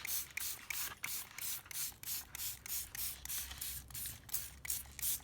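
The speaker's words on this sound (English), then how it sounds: "let's go in with the coffee. I'm just spraying this over" A spray bottle mists coffee over a paper napkin in about a dozen quick, even bursts of hissing spray, close and fairly quiet, with a faint mechanical click from the trigger on each pull.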